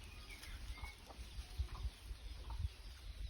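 Chickens and young chicks on a family property in the Philippines, faint scattered clucks and soft peeps over a low rumbling background outdoors, no talking.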